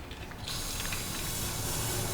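Rust-proofing spray blasting into a hole in a vehicle body, a steady, loud aerosol hiss that starts abruptly and runs continuously to the end.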